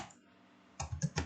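A few keys tapped on a computer keyboard while a password goes in on a Linux system, a short burst of three or four close, crisp clicks after a quiet pause.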